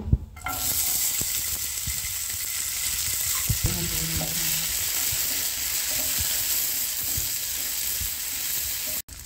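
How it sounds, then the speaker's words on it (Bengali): Cashews and raisins sizzling in hot ghee in a pan, a steady close frying hiss with occasional stirring clinks. "কাজু কিশমিশটা আমি ভেজে নিচ্ছি"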